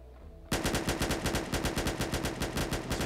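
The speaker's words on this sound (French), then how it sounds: "On se fait tirer." Automatic weapon fire in a Warhammer 40K roleplay game starts abruptly after a quiet moment, then runs as a steady, loud, rhythmic stream of rapid shots for several seconds.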